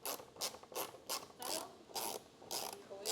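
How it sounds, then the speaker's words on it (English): Torx T25 driver ratcheting out two bolts on a Corvette C5 door during window regulator work, with repeated bursts of close ratchet clicking in an even rhythm and no talk. "you want to grab your T25, and you're going to take these 2 bolts out right here"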